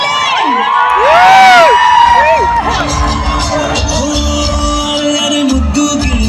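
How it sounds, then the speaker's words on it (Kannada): Crowd at a shopping mall inauguration in Davangere cheering and whooping loudly, with shrill shouts and a swelling roar, close and energetic, clapping barely distinct beneath the cheers. "ಮತ್ತೊಮ್ಮೆ ನಮ್ಮ ದಾವಣಗೆರೆಯಲ್ಲಿ ಸ್ವಾಗತ ಅಂತ ಜೋರಾಗಿ ಚಪ್ಪಾಳೆ ಬರಲಿ."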